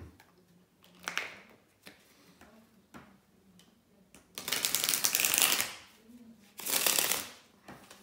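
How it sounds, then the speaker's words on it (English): Tarot cards are shuffled in several bursts of rapid riffling and flapping, close and fairly loud, separated by soft handling clicks. "give me a second here to shuffle the cards"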